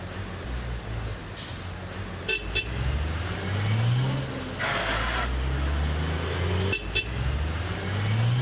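Municipal special service vehicles, newly handed over after an official ceremony, pull away on a street with a steady engine rumble and rising revs, a couple of short horn toots and air-brake hisses mixed into the traffic noise.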